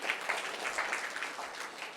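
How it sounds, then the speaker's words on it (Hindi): An audience at a Buddhist vihara in Rajnandgaon claps to reward a quiz contestant's attempted answer, a short burst of scattered, fairly close clapping from a small crowd with no talk over it. "कोशिश के लिए तालियां बजा दीजिए"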